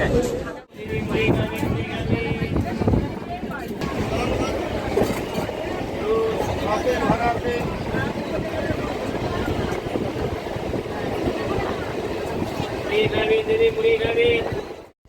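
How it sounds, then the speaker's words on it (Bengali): A passenger train at Nabadwip station rumbles steadily with rhythmic wheel clatter and a faint squeal, while voices of a crowd chatter throughout. "প্রচুর ভিড় হবে এই ট্রেনটাতে"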